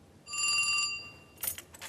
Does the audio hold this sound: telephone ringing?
yes